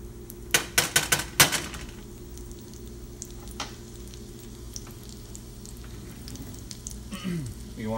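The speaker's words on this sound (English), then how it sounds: "Now that that's all melted, we'll throw in the garlic." Garlic is tossed into melted butter and oil for a snapper piccata butter sauce. A quick run of sharp clatters and knocks from the pan opens, then a quieter steady sizzle follows, with a brief soft sound near the end.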